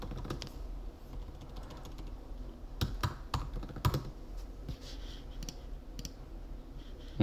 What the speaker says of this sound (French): et là si par exemple je tape nouveau